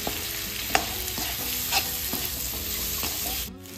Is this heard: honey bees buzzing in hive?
no